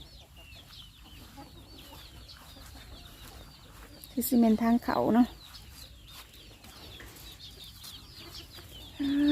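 Chickens cluck in a short burst near the middle, with soft background noise and a voice talking faintly; a brief louder sound comes at the very end.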